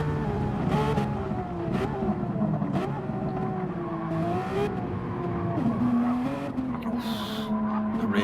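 Porsche race cars on a circuit, engines droning steadily as the cars run close together, with tires squealing through the turns and an announcer talking over the racing.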